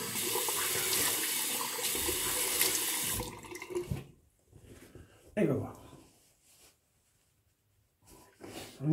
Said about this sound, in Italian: E adesso vi sciacquo io il viso, però.